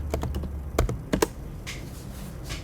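Quick fingers type a device name on a computer keyboard: a brisk run of sharp, close key clicks with short pauses between clusters, then a quieter tail.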